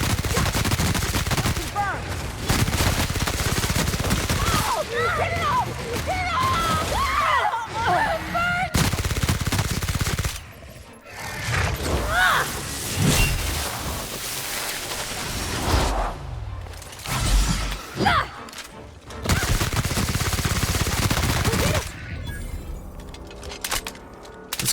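Heavy gunfire in The Outer Worlds, long bursts of rapid automatic shots with brief lulls and sharp single reports, loud and dense throughout, with a few scattered game voices underneath.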